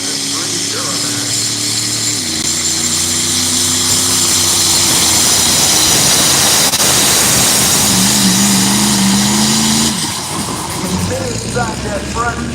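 A 2003 Duramax diesel truck engine roars under heavy load during a truck pull in Rockwell, Iowa, a loud sustained drone that shifts pitch as it climbs and drops, with an announcer talking over it.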